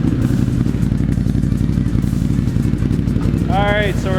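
A diesel-fueled quad's engine idles steadily after being de-swamped, a close, even low rumble with rapid regular pulsing and light clatter, left alone without revving; a brief voice-like tone surfaces near the end.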